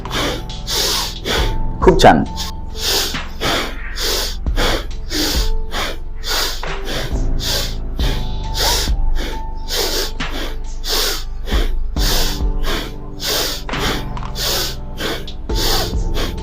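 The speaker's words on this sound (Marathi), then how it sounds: "लांब श्वास घेत घेत आत करायचे आणि त्याच्यानंतर घेतलेला श्वास सोडत बाहेर करायचे" Rhythmic, forceful in-and-out breathing during a yoga exercise, with steady sharp breath bursts repeating at an even pace, close to the microphone; a voice briefly speaks once.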